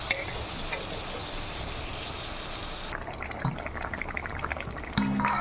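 Water splashes into a pan of small-fish curry (choto machher jhal) during cooking, a steady pouring wash at first that gives way to quieter sizzling, stirring and a light clatter toward the end, with no talking.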